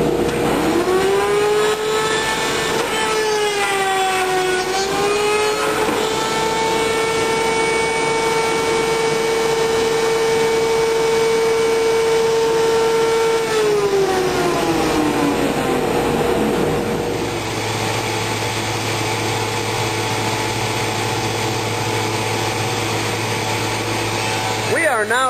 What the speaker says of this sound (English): consists of making the groove in the back for hanging purposes on a custom machine.